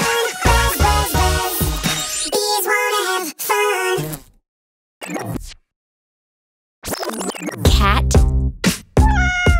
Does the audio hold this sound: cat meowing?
yes